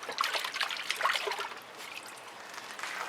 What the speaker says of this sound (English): More hand rinsing.